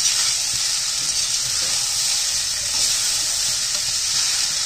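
Leftover cooked rice tossed with chili powder and meat masala fries in a hot pan, giving a steady, close, bright sizzle that holds evenly for a few seconds with faint stirring underneath and no talking.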